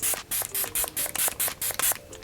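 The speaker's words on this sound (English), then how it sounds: "And then one more time with your setting spray." Makeup setting spray misted from a pump bottle in a quick run of about nine short hissing bursts, close and crisp, with small rubbing noises between sprays.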